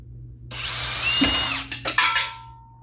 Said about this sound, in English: Got me a step bit. Gonna see if I can drill a hole